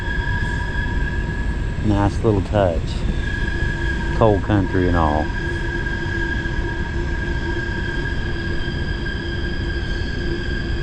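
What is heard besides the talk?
train passing nearby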